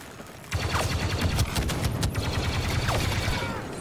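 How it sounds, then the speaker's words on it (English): Rapid bursts of blaster-style gunfire from a Star Wars video game, a dense fusillade of repeated shots that starts abruptly and continues loudly with overlapping impacts. "Stop shooting, dude."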